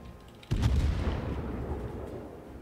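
Warship guns fire in the naval video game World of Warships, a single heavy boom that opens sharply and rolls into a long rumbling decay, with no talk over it.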